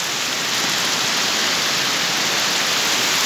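A small waterfall in Nazaré Paulista pours in a steady, dense hiss of rushing water, close and continuous, with no voices over it.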